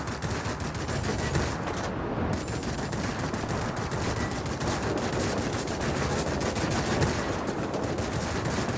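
Aircraft machine guns fire in World of Warplanes, a dense, continuous loud rattle of gunfire over engine drone lasting the whole stretch, with one very brief gap near the start.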